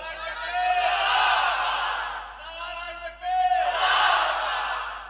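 A large crowd at a religious gathering shouts takbir in unison, two long, loud chanted roars separated by a brief dip.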